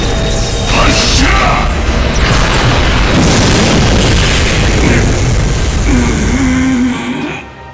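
A loud, sustained booming roar of a cannon blast in the game Fate/Grand Order, with crackling rumble rolling on for several seconds before fading out.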